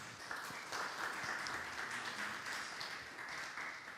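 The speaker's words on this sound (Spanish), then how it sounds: "Un aplauso primero para ellos" An audience in a lecture hall applauds two guest speakers at a talk on designing and building with bamboo in Peru, a steady, dense wash of clapping that holds evenly throughout.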